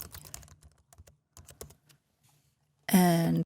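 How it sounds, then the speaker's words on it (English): Quick bursts of typing on a computer keyboard, with light clustered key clicks for about two seconds, close and fairly quiet, followed by a brief loud tonal sound at the end. "We're going to copy that just to quickly type this up."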